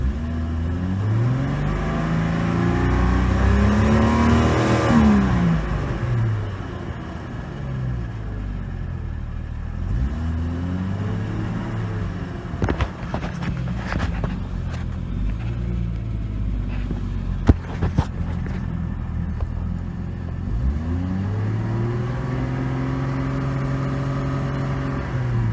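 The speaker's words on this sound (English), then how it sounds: "so that's the car running" A 1997 Jeep Cherokee Sport engine idles up close, rising and falling in several distinct revs separated by steady idling, with a few clicks and knocks in between and no voices.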